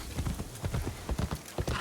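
Horse hooves clip-clop in Assassin's Creed Shadows, a quick steady run of hoofbeats in a galloping rhythm, close and fairly loud with no talk over them.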